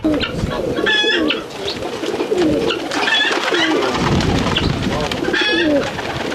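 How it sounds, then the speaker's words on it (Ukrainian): Homing pigeons in a zoo aviary coo repeatedly in soft, rolling bursts, with other bird calls mixed in and a voice faintly underneath. "Є в Корнілова і декоративні кури, і дикі качки, і, звісно, поштові голуби"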